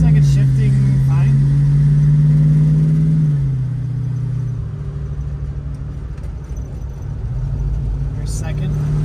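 A 1968 Mustang fitted with a Ford Explorer 5.0 V8 accelerates nearby, its engine note climbing, then dropping at a gear change before settling into a steady drone, with a voice talking over it.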